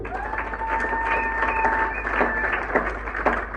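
Church congregation applauding to acclaim the Lord, a steady wash of clapping through the whole stretch with a few sustained tones and voices blended in underneath.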